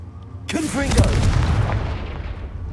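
A Confringo explosive spell cast in Hogwarts Legacy sets off a sudden loud booming burst that rolls into a long rumbling, crackling tail of fire and debris, with a short spoken word at the start.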